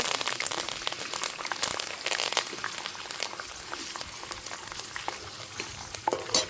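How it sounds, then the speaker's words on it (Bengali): Curry leaves frying in hot oil, a steady crackling sizzle with sharp spattering pops spread across the whole stretch, moderately loud and close with no voices. "এবার কারি পাতাটা ভেজে নেব।"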